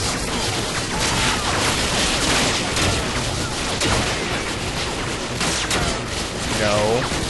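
Dense, constant gunfire and explosions fill the Modern RAMBO 2 video game in a loud, unbroken barrage with no pauses.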